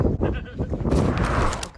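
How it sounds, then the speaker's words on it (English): A sheep bleats near a hill trail along the West Highland Way, a few short wavering calls close by, with people talking over them. "Around the corner, and there's a sheep."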